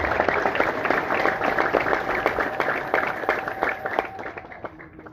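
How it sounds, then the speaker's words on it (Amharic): A church congregation applauds in a dense burst of many hands clapping together, filling the room and then fading out near the end. "እስቲ እንኳን ደህና መጣችሁ ጭብጨባችሁ አላረካኝም።"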